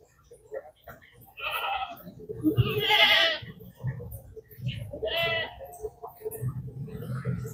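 At a farm feeding spot, a goat bleats several times in loud, wavering calls with gaps between them, while someone speaks nearby.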